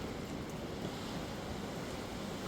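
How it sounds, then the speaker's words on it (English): Steady, loud roaring wind buffets the microphone, a constant broadband rush with no pauses or voices. "It's so windy outside."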